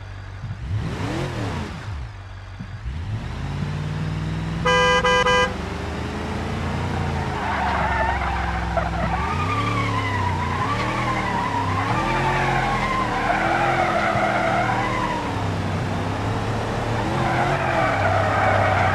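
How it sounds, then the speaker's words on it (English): A car passing outside during a live weather stream, its engine rising and falling in pitch with tyre noise, loud and sustained over roughly twenty seconds with no talking. "You guys can hear the car."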